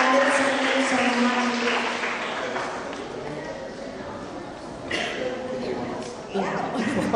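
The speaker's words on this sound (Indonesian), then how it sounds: "Sekali lagi kita tepuk tangan yang meriah untuk para penerus bangsa kita" Audience applause for a group of young child doctors at a formal reception with Jakarta's deputy governor, a broad continuous clapping that fades slightly midway and then swells again, with an announcer's voice over it.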